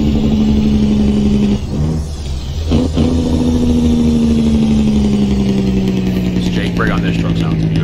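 Peterbilt 389 truck engine in American Truck Simulator, a deep steady droning rumble that holds a near constant pitch, dips briefly, then continues loud and close throughout.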